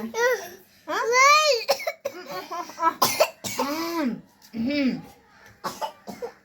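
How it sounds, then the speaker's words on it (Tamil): Several sharp coughs mixed with a child's chatter and giggles, close and lively, with pauses between bursts. "இருமல் வந்துருச்சு"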